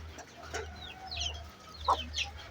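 Hens and chicks cluck and peep in short, scattered calls at close range, a few sharp chirps standing out against a low steady background hum.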